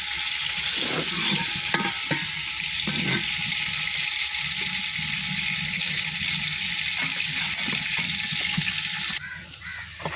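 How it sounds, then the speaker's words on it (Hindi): Onions frying for moong dal in a hot pan give a steady, close sizzle that holds at an even level, with a few scraping stirs, then thin out near the end. "इसमें प्याज डालिए, करेंगे भुनाई इसकी अच्छी तरह।"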